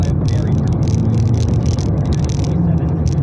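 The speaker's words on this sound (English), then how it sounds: "wow, still so much traffic at 7 p.m." Busy evening road traffic at 7 p.m., a steady, fairly loud rumble of passing cars with low engine drone throughout, close by and continuous with no talking.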